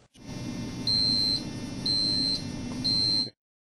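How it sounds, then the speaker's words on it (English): A controlled AC power strip gives three evenly spaced high electronic beeps over a steady low hum, close and clear, then cuts to silence. "The power strip will respond with beeps."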